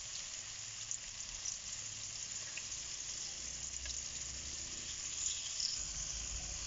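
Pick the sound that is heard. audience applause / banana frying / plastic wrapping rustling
banana frying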